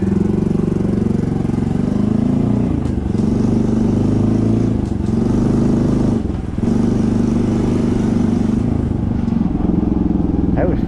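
A Honda CT125 motorcycle fitted with a 142cc big bore kit pulls hard in fourth gear, a steady loud engine drone with brief dips as it shifts or eases off, under someone talking.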